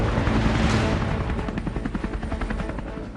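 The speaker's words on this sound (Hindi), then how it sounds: "खुद ABP न्यूज की टीम इस लाइट कॉम्बैट हेलीकॉप्टर यानी LCH में है।" HAL Light Combat Helicopter (LCH), a light attack helicopter, heard in flight from close by, a loud continuous rotor and turbine roar with steady rhythmic blade chop throughout, no voices.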